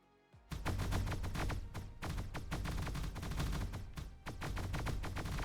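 A mecha's super cannon fires in the space game Dyson Sphere Program during an assault on Dark Fog hives. After a short lead-in, dense rapid-fire bursts keep up a continuous, fairly loud barrage with only a few brief gaps.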